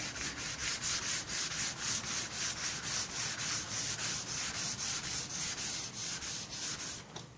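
Wet sanding of touch-up paint on a 1966 Ford F-100 truck with sandpaper by hand, a close, steady rhythm of rapid back-and-forth rasping strokes, about three per second, running alone without talk.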